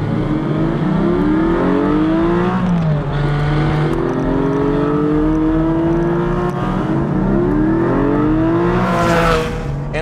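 A 2020 Porsche 718 Cayman GT4 engine revs hard and close, its pitch climbing through first, dropping at the shift into second, then falling back to first, as one loud continuous run with no talk.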